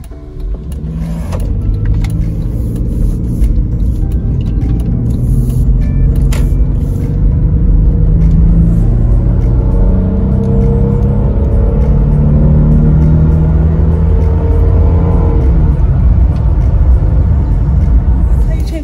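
A 2006 Jeep Grand Cherokee with a 3.7 V6 on a short test drive after new spark plugs and ignition coils, its engine and road rumble steady and loud from inside the cabin throughout.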